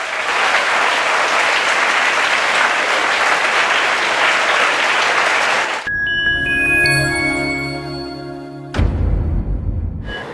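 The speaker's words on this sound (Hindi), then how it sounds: "तो जोरदार तालियों के साथ स्वागत करें दिव्या का" A studio audience on a TV talk show applauds loudly and steadily to welcome a guest, an entrepreneur, for about six seconds before the clapping gives way to a bright musical jingle with sustained tones and a closing hit.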